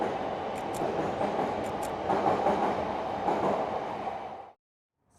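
A city train rumbles past steadily with clattering wheels and occasional high squeals, loud and continuous before cutting off abruptly near the end.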